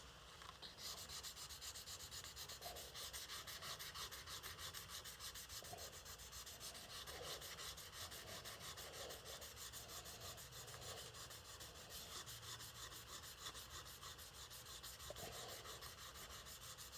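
A knife blade being hand-sanded with sandpaper gives a steady, continuous close scraping rub with faint repeated strokes throughout, no voices.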